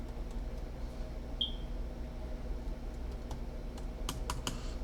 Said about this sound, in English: so I'm going to type in